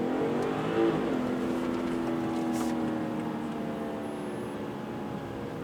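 A BMW 540i xDrive G30 sedan accelerates at night, its engine tone climbing in pitch under a broad road and wind roar that stays steady and close throughout.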